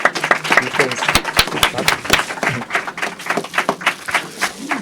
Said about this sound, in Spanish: La maestra Lucila Servitje Montul, para quien pido un aplauso